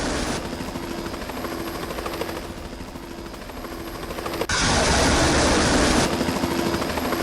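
A Mi-24 helicopter during an air strike with Hydra 70 rockets gives a loud, continuous rotor roar with a steady drone, jumping abruptly louder partway through and staying heavy to the end.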